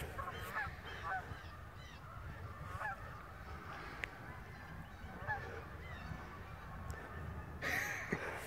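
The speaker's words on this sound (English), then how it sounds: "We just herded all the geese off of this, like, park." Geese honk in scattered calls over a quiet park background, some near and some farther off, with a louder burst of honking at the end.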